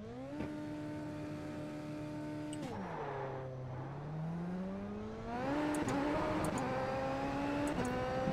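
A Super Formula SF23 single-seater in a racing game holds its engine near the limit with launch control and a dual clutch, then the revs drop and climb again as it pulls away, with a steady whining drone and no voices.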